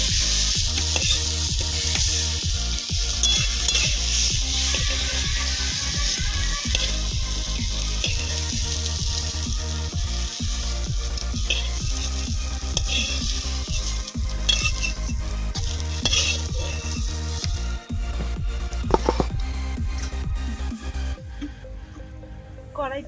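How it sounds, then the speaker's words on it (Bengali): Pointed gourd (potol) fries in hot oil in a kadai, giving a continuous loud sizzle broken by repeated clacks and scrapes of stirring, ending as the frying sound cuts off near the end. "পটল ভাজা হয়ে গেছে"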